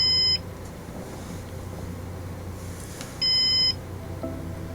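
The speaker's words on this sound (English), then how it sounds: "the beep will stop, and beep has stopped." A Synology DS220j NAS reconfiguring its volume gives two short, high electronic beeps about three seconds apart over a low steady hum.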